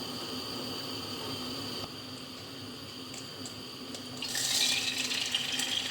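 Water runs steadily from a kitchen water filter tap, a soft continuous hiss that grows louder and brighter near the end as the flow strengthens.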